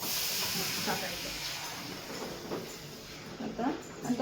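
Water poured into a hot pan of roasting bajra millet flour gives a steady hiss that fades gradually, fairly quiet, with faint speech underneath.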